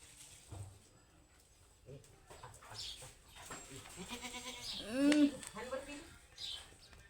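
A goat bleats nearby in a farmyard, a few wavering calls with one louder drawn-out bleat in the middle, while people talk quietly around it.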